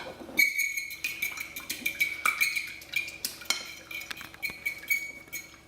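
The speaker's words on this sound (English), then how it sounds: "So I'm just going to use this fork for this, just breaking up the egg yolks." Fork beating egg yolks into the whites in a bowl, a quick steady run of light metallic clinks and scrapes that repeat evenly and stay close throughout, with no talk.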